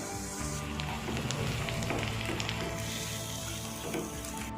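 Green chillies and curry leaves sizzle steadily in hot oil, a dense close crackling hiss that holds evenly throughout.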